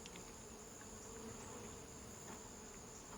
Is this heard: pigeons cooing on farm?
no